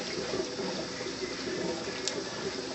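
Water pours steadily from the return line of a 92-gallon aquarium driven by a pump, a constant, fairly loud broadband rush with no pauses or voices.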